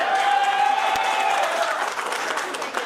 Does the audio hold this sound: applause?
yes